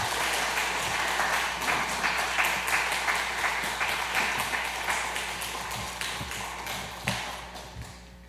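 A church congregation at a Wednesday prayer service claps together in welcome, a steady patter of many hands that carries on for several seconds and slowly fades.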